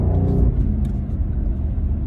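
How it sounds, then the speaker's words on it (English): A BMW M850i in sport mode gives a deep, steady exhaust rumble at close range that holds a low drone for about two seconds, with no voices. "I don't know if you can pick up the sounds that this car is giving off"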